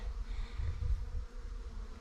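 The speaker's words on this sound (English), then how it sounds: "I got an awful lot of bees down in here" A swarm of honey bees clusters in and around a tree, giving off a continuous low, dense buzzing hum that swells slightly and stays steady throughout, nearby and moderately loud.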